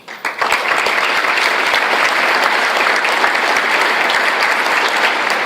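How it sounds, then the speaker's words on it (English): Sustained applause from a banquet audience at an Illini individual awards event, loud and dense from start to finish with no voices over it. "Justin, Jalen, Aaron, can you guys stand up and give them a round of applause?"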